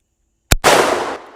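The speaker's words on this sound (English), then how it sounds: "We all know that the .44 Mag packs a punch, and I'm shooting some 240 grain hollow points." .44 Magnum lever-action rifle fired at an outdoor range with 240-grain hollow points: a single sharp, loud report, then a brief gap and a broad rumbling echo that decays over the next half second.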